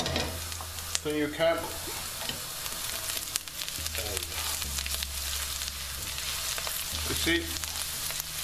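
Turmeric fries on the side of a pan for an aubergine and potato curry, giving a steady low sizzle with occasional stirring scrapes, while a voice talks briefly over the cooking.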